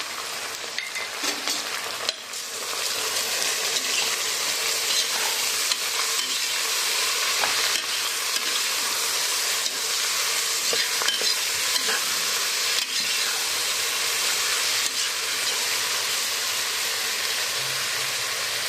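Onions sauté in a pan with coarse salt for chicken biryani, giving a constant loud close sizzle with a few stirring scrapes and clicks, no voices heard.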